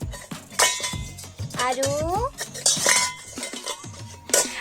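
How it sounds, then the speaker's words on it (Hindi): Metal pots, pans and utensils clatter and clink as a small child plays with them at home, a busy run of bangs and rattles with brief child vocal sounds mixed in. "ये बर्तनों के साथ खेला जा रहा है"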